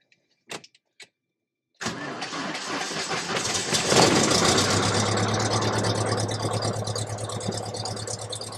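A 1969 Cessna 172K aircraft engine starting for a night run-up: two faint clicks, then the engine catches with a loud burst and settles into a steady, rumbling idle close by.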